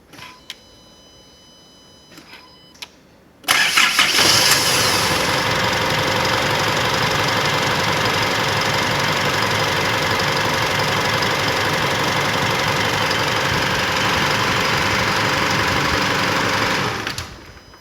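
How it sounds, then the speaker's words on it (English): After a few quiet seconds, a car engine cranks and catches, then settles into a steady, loud idle that continues until it cuts off near the end. "Now we will start the car and see how the car runs."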